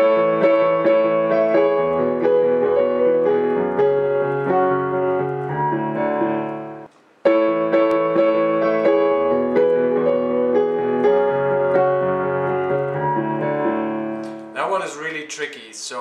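Solo piano playing a song, a steady flow of sustained chords and melody that pauses briefly midway, then resumes and ends with a short burst of talking.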